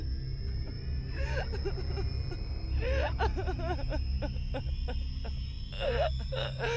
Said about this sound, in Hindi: बाहर से किसी स्त्री के रोने की आवाज सुनाई दी